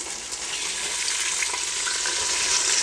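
Cut carrots, potato and beans frying in oil for a village-style pulao, a steady close sizzle with faint stirring clicks, no voices.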